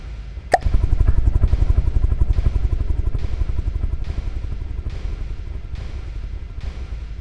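A helicopter's rotor in the From The Depths video game chops out a steady, loud, low rhythmic thumping, evenly pulsed and gradually softening, after a brief sharp click near the start.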